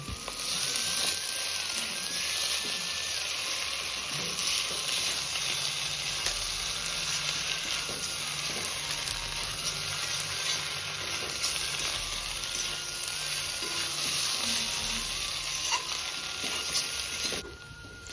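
Coriander and cumin powder fry with pigeon meat in a pan, a loud, even sizzle running throughout with occasional stirring scrapes and a faint whining tone in the background, no voices.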